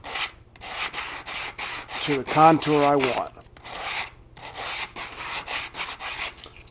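Close sanding of a shell's edge to re-contour it, heard as rhythmic rasping bursts of abrasive rubbing with brief pauses between strokes, while a person talks partway through.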